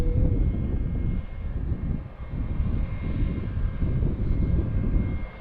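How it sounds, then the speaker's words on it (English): A Delta 717 jet airliner just after landing, a continuous low engine roar and rumble heard from a distance at an airport, steady and fairly loud with no talk. "There's the Delta 717. Just landed."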